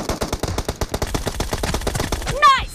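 Rapid automatic gunfire in PUBG Mobile during a team deathmatch, a fast, even burst of close, sharp shots that runs nearly the whole time, with a short whooshing effect at the end.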